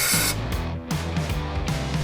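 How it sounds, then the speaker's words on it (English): Brake cleaner sprays from a can onto a greasy part of a Johnson 9.9 outboard motor, loud close hissing bursts in a few short pulses with brief pauses between them. "I'll probably just spray that out with some brake cleaner."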